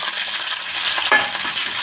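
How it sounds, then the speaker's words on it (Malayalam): Okra frying in well-heated coconut oil in a pan, a steady broadband sizzle with a brief scrape of stirring near the middle, close and alone. "ചട്ടിയിൽ വെളിച്ചെണ്ണ ഒഴിച്ചിട്ടുണ്ട് നന്നായി ചൂടായിട്ടുണ്ട് ഇതിലേക്ക് വെണ്ടക്കായ ഇട്ടിട്ടൊന്ന് നമുക്ക് വാട്ടിക്കൊടുക്കാം"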